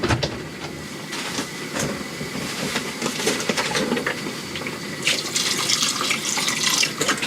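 Tap water pouring steadily into a spaghetti pot in a camper van kitchen, a loud continuous gushing splash that brightens and swells toward the end.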